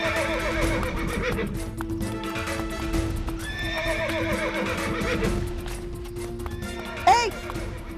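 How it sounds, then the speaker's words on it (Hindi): A horse whinnies several times over clip-clopping hooves, with a loud, rising neigh near the end, while a steady tonal hum and faint voices sit in the background. "ये घोड़ा यहाँ क्या कर रहा है?"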